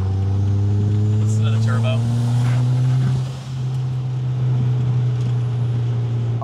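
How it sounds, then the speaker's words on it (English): A turbocharged Mitsubishi Eclipse GSX engine with 240,000 miles drones steadily with a strong low hum, shifts briefly midway, then holds again, heard from inside the car under some talk. "Listen to the turbo."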